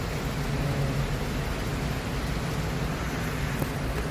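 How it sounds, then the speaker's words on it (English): Steady rain hisses evenly throughout, a continuous broadband wash with no voices or distinct drops standing out. "the fog is gone because it's raining"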